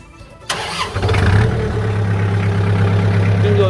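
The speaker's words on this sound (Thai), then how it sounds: "เดี๋ยวลองสตาร์ทเครื่องยนต์ดูนะครับ" A Kubota M5000 farm tractor with its diesel engine is cranked briefly, then catches and settles into a loud, steady idle close by, with no talk over it.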